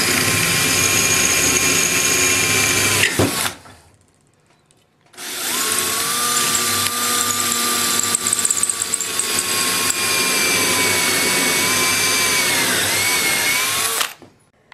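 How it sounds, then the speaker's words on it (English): A power drill bores a hole into the center of a hook for a cheap homemade gimbal steadicam, loud whining steady runs in two bursts separated by a short pause, with pitch shifting slightly as the bit bites. "using the same drill bit, drill a hole in the exact center of this area of the hook"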